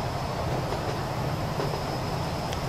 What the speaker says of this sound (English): Here, another train.